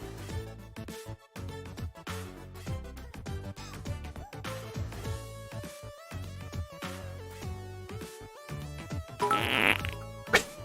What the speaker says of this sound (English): Why listen to the fart noise? I thought I disabled that.